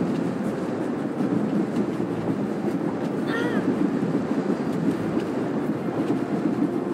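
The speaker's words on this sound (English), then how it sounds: "Stop the train, Theron!" A train rumbles along continuously in a Star Wars video game, a dense low roar with a faint rhythmic rattle throughout and a brief higher warble partway through.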